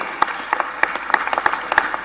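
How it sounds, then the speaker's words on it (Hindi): Audience applause at a political rally conclave in Indore, a brief burst of many hands clapping in a dense, moderately loud patter with no voices over it. "ताली बजाओ तो दिल खोल के बजाओ, ऐसा लगे कि ताली बज रही।"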